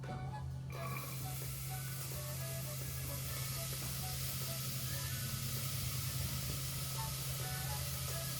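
Onion dropped into a hot medium pot, making a steady broadband sizzle and hiss that holds evenly throughout, with a low constant hum underneath and no talk.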